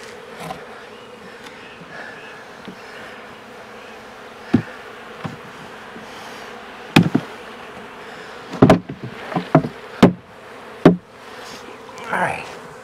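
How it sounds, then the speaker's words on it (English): Honey bees from a swarm drone steadily inside a hive box, with a dense continuous buzz throughout and several sharp knocks and bumps of the wooden box near the end. "the bees are out, and there are a lot of bees in this box"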